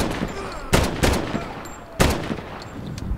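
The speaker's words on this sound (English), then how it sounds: "Man, this gun kicks ass." Gunfire from a Call of Duty video game: two loud, sharp bursts of shots about a second apart, each followed by a few quicker reports and a fading tail, with no one talking.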